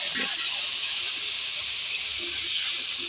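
Potato pieces fry in hot oil on a stove, giving a steady, dense, bright sizzle that stays close and evenly loud throughout, with no voices over it.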